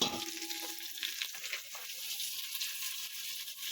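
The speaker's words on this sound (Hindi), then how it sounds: "तो इसको साथ में डाल के अच्छे से भून लेंगे" Garam masala, green chili and tomato fry in a pan with a steady, close hiss and faint sizzle, a few stirring scrapes near the start, no voices.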